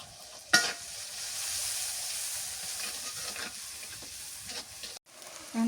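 Onions sizzle steadily in hot oil with salt and dried chili powder, a close, continuous frying hiss opened by a sharp clack and broken by brief stirring scrapes near the end.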